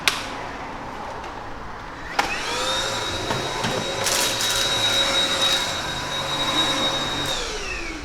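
A vacuum cleaner hoovering: a click, then the motor starts and spins up into a loud, steady whining hum that holds for several seconds before easing off near the end.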